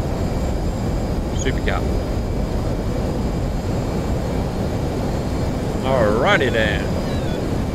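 Jet engine roar of a military aircraft taking off in DCS, in a 2010 Afghanistan Kandahar Province setting: a steady, loud, broadband rumble throughout, with a person talking over it.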